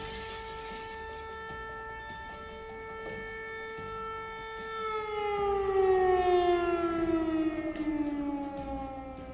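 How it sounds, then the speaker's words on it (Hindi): An air raid siren wails during wartime in Ukraine, holding a long, steady tone that then slides downward in pitch as it swells louder, sounding clearly with no talk. "there is an air raid siren going on"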